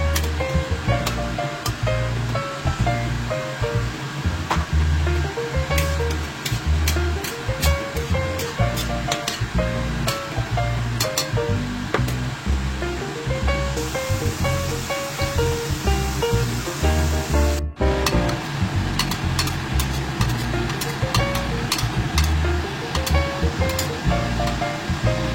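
A whole head of garlic hits a hot pan for pork spareribs, setting off a loud, continuous, rushing sizzle that holds steady and close for the full stretch.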